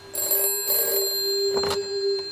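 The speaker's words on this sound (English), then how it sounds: "On the second afternoon, the phone rang." A telephone bell rings in repeated bursts, loud and close, with a steady tone running between the rings and no voices.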